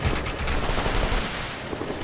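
Dense gunfire in the military shooter Operation Flashpoint: Red River. It sounds as a steady, continuous fusillade of overlapping rifle and machine-gun shots at constant loudness throughout, with no voices.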